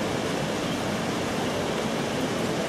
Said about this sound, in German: So, das ist ein Wasserfall.